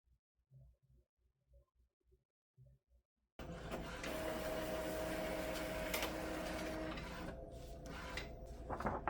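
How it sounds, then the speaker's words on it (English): An Epson ET2400 printer prints on sublimation paper. A few faint mechanical clicks come first, then a steady close whirring run of the print mechanism with a brief tonal whine that continues to the end. "So now we just hit start printing."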